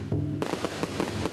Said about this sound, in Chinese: 屏东三地门乡部落居民以盛大的烟火迎接来自澎湖的进香团